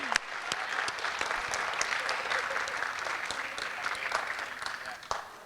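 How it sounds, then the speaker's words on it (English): A crowd gives sustained applause for award recipients at a high school JROTC awards ceremony. The clapping is steady and moderately distant, with a few sharper nearby claps and faint voices underneath. "Please give all of our award recipients a round of applause."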